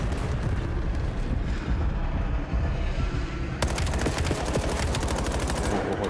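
Rapid gunfire from a Call of Duty esports match, sounding as dense, continuous automatic bursts and single shots over steady loud game noise, with sharper, brighter shot cracks in the last few seconds.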